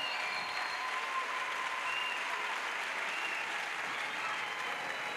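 A congregation at an evangelistic crusade for salvation, healing and deliverance applauds steadily in acclamation of Jesus Christ. The dense, even clapping is loud and sustained without a break, with faint voices mixed in.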